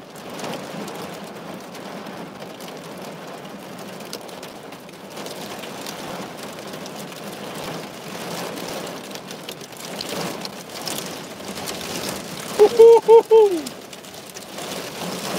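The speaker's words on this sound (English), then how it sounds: "Come back wind and rain." Heavy rain and wind lash a Norfolk coastal area during Storm Franklin, a steady dense roar of rain and gusts throughout, with a brief bird call near the end.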